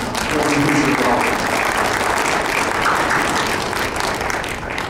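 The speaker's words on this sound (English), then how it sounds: "Congressman Bucshon, how about a round of applause?" Audience applauding to welcome Congressman Larry Bucshon at an evening event, a loud sustained roar of clapping with crowd murmur and a few voices mixed in, easing slightly near the end.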